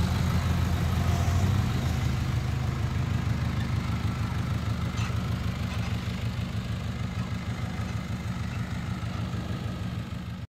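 A Suzuki Hustler or Spacia DA17 kei vehicle's engine runs at a steady idle, a constant low hum with a faint rhythmic pulse, close and unchanging, with no talking.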